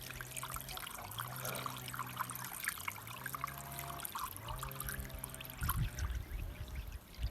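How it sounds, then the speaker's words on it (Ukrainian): Water pours and trickles steadily for several seconds while geese honk intermittently nearby. "Наливаємо їм водички."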